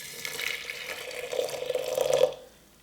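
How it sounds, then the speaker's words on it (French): Water streams from a tap or kettle into a teapot holding a spoonful of green tea, a close gurgling pour that swells toward the end and then stops abruptly. "je vais mettre dans la théière pour 1 litre environ et je vais rajouter de l'eau"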